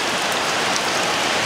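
Steady rain falling outdoors, a dense, even hiss of drops on surfaces that stays loud and unbroken with no voices over it.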